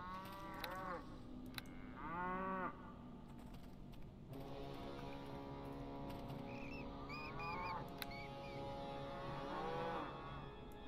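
Cows in the Neverwinter Nights video game moo repeatedly in a long, drawn-out series, several overlapping bellows spread across the span, with faint keyboard typing beneath.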